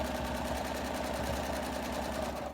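A sewing machine hums and chatters steadily and close during free motion quilting of a mini pineapple log cabin quilt, running without pause and with no speech.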